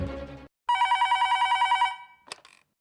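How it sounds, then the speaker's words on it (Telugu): An outgoing telephone call rings back with a single long warbling ring tone, preceded by a brief burst of sound and followed by a short click-like blip. "రింగ్ అవుతుందా అండి? రింగ్ అవుతుంది అఖిల."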